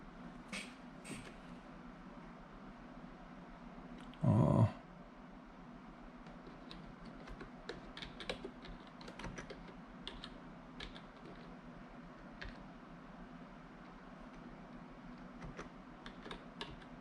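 Quiet computer keyboard typing clicks along in scattered bursts and single taps over a faint steady room hum, close but soft, with one brief louder thump early on and no talking.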